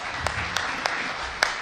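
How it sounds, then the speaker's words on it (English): Congregation at a church service applauding in praise, a steady wash of clapping with a few sharper claps standing out over the continuous crowd noise. "give the Lord a big round of applause"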